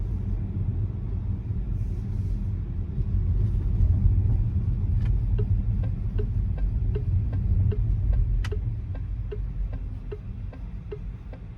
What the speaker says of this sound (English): obviously you can hear some tire noise